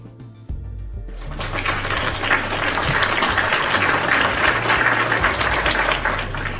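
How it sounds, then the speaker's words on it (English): A round of applause as a sound effect: after a brief quiet start, dense clapping swells in and holds steady and loud for several seconds. "But ma'am, you're going to get a round of applause"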